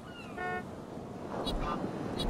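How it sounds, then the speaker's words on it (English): A short, tinny car horn toot sounds once early on in a video game, followed by muffled game noise and faint voices in the background. "Honk to start."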